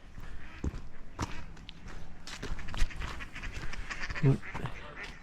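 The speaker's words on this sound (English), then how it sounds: "Comes the ducks." Ducks quacking nearby at a small pond in a park, with a few short calls amid rustling and footsteps outdoors.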